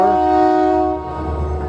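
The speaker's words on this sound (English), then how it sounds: "That's our train." A train horn sounds loudly with a steady multi-tone blast, fading slightly as the rumble of the passing train continues underneath, on Route 66 in Galena, Kansas.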